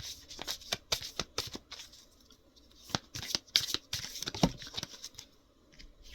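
Tarot cards are shuffled and drawn in quick, irregular bursts of riffling and snapping, close and fairly quiet, with short pauses between handfuls and no talking.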